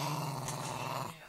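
A dog growls low and continuously at close range, a rough rumbling sound that holds steady and then fades out near the end, with no voices over it.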